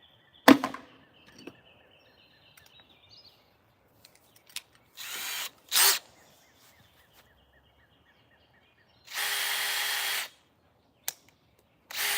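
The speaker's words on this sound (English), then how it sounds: "Drill the eyes out." Short bursts of a power drill whirring into wood in separate spurts, with a longer run near the end, among scattered knocks and clicks in a quiet space.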